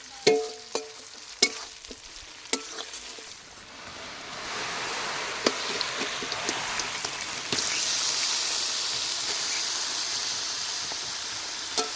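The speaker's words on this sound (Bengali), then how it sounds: "একটুখানি হালকা তেলে নাড়িয়ে তারপরে এবার মাংসটা দিয়ে দেবো" Duck meat and spices frying in a little oil, stirred with scraping clicks at first, then a steady broad sizzle that swells and holds close and fairly loud.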